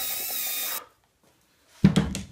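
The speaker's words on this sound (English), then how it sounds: "So I'm going to drill all these two out." A power drill with a 3/16 inch bit bores through wood over a sacrificial board beneath, whirring loudly for under a second, then, after a short silence, a second rougher burst of drilling.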